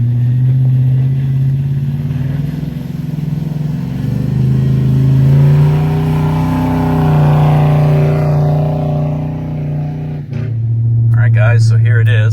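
A Chevy truck with aired-down tires in two-wheel drive rolls along a rough back road, a steady loud low engine drone from inside the cab with small rises and dips, while a person talks over it.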